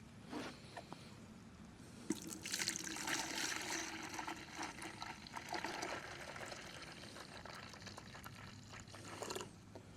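Liquid is poured into a Yard Mastery tank sprayer, a soft, faint trickling splash that runs for several seconds with small drips at the start and end.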